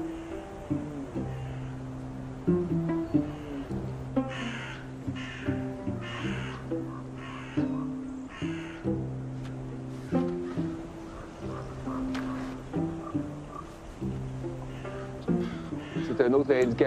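Crows cawing in a forest where moose and wolves roam, with harsh repeated calls overhead from several birds, some close and loud, others farther off, while someone speaks steadily over the calls.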